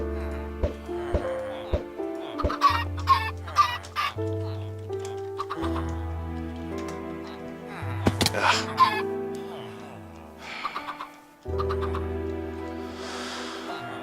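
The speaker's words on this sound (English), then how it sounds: "More chickens." Chickens cluck in the Minecraft video game, with short bird calls popping up over steady background music and game sounds, close and fairly clear.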